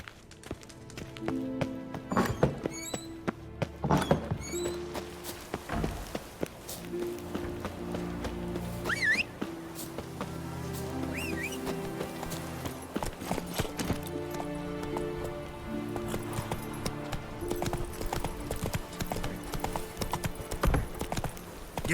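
A horse gallops in The Witcher 3, rapid clip-clop hoofbeats in steady rhythm with tack rattle and brief ambient game sounds, fairly close and mostly alone.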